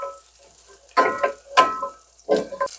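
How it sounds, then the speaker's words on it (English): Bread cubes fry and sizzle in a pan on a wood stove, tossed in three distinct bursts of scraping and crackle with quieter sizzling between, close and moderately loud. "Start tossing the croutons."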